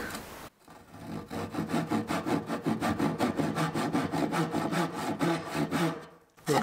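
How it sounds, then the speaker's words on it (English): A rough old tenon saw cuts back a wooden rail on a frame ledge and brace gate, giving a steady run of quick rasping back-and-forth strokes, close and fairly loud, stopping briefly at the start and end. "So I'm just going to cut this back with my rough old tenon saw."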